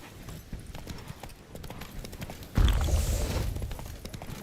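Horse hooves in the game Witcher 3: Blood and Wine, a rhythmic clip-clop at a trot that turns into a louder, heavier galloping rush with rustling partway through.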